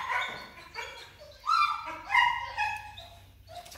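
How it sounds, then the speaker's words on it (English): Several dogs bark and yip in short, excited bursts, with whimpering between them, as they sound the alert at a monocled cobra nearby; the barking is moderately loud and uneven, with no talk. "Dogs all on alert."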